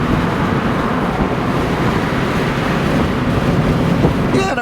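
A convertible Mazda MX-5 Miata is driven with the top down, giving heavy, constant wind buffeting over a low exhaust drone throughout.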